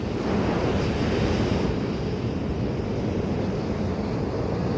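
Ocean waves washing up on a resort beach, a loud, continuous roar of surf with wind buffeting the microphone, no voices.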